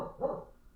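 A single short dog bark, fairly quiet and close, fading quickly into low background noise with no talking.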